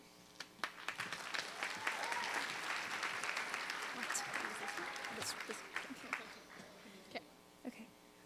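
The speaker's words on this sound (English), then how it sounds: "So, a round of applause." A crowd at a school convocation claps for several seconds, a sustained wash of applause with scattered louder claps, and voices and a few chuckles mixed in.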